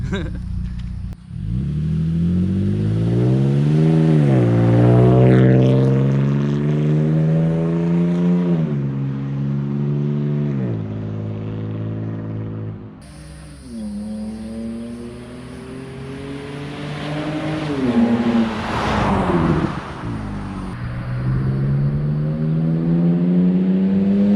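Outdoors, a third-generation Toyota Tacoma with a CARVEN cat-back exhaust revs loudly and repeatedly, each rise in pitch followed by a drop back to a rumbling idle.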